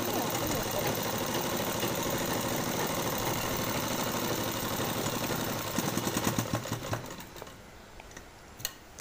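A sewing machine stitching kurti fabric runs with a fast, steady mechanical whir, loud and close, then slows into a few uneven clatters and stops near the end.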